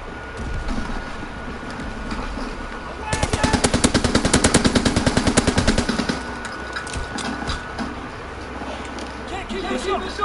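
Automatic gun in a video game fires a rapid sustained burst of sharp shots lasting about three seconds, loud and close over a background of game noise, with a voice talking around it.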